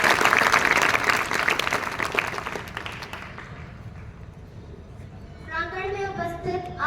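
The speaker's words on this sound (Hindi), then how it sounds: "बेटी मानसी, उनके हौसले के लिए जोरदार तालियां तो बनी सकती हैं।" Applause from a school audience for a student's speech, loud and dense at first, then thinning and fading over a few seconds before a voice begins speaking over the quieter hall.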